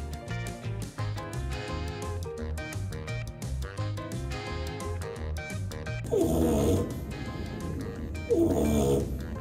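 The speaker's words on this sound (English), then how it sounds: "Size doesn't matter when it comes to snoring." A small animal lying in a hammock snores in slow, rasping breaths, two louder snorts standing out over a steady backing of music.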